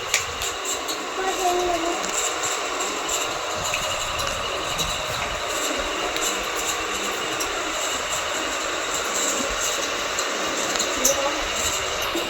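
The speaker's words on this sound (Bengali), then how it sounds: "ট্রেন।" Train running at night, a steady rumbling roar of wheels and carriage noise heard from inside, continuous and fairly loud throughout with faint background voices underneath.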